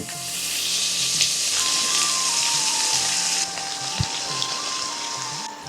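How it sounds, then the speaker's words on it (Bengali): Chopped bottle gourd hits hot oil seasoned with mustard and fenugreek seeds and sizzles loudly and continuously, with a brief dull knock partway through. "সর্ষে মেথির সুগন্ধ বেরোলে এতে ছেড়ে দিন ঝিরি করে কাটা লাউ।"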